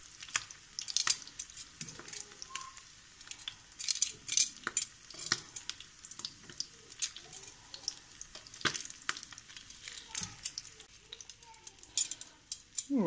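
Navaga fish fillets frying in a pan, a steady close sizzle and spatter with sharp crackles and occasional utensil clinks throughout.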